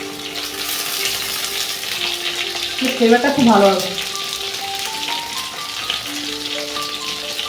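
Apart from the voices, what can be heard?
pineapple kebab frying with ghee in a pan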